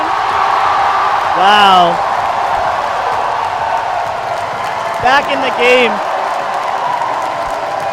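A crowd at the IFSC Climbing World Cup bouldering finals in Toronto, 2014, roars and cheers in a steady, loud wash, while excited commentators talk over it.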